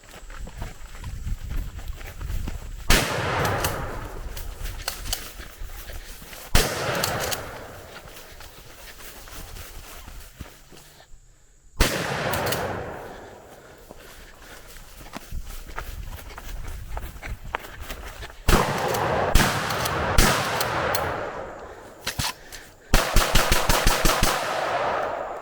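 Shotgun fire with buckshot and slugs during a run-and-gun shooting drill: several loud, sharp blasts spaced a few seconds apart, some coming in quick succession near the end, with movement in between.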